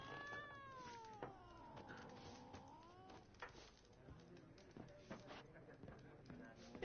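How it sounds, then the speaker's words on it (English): A cat in The Witcher 3 yowls in long wavering cries, then gives rougher hissing and spitting bursts, faint, with soft game ambience beneath. "cat in here keeps hissing and yowling."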